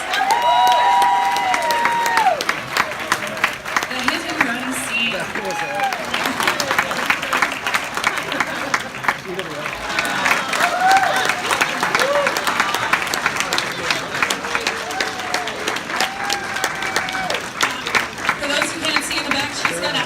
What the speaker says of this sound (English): Everybody give him a round of applause